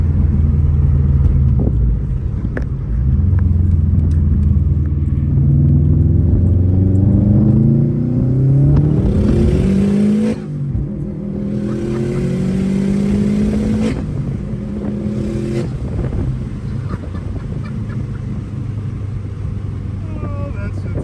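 A tuned Subaru STI drives and accelerates from inside the cabin, its engine droning loud and close, rising in pitch through several gears with shift breaks between pulls.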